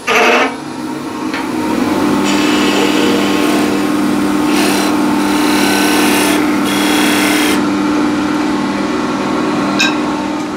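A lathe parts off a workpiece with a steady, loud whirring hum and a gritty scraping cut that runs continuously, with a few brief brighter hissing surges partway through.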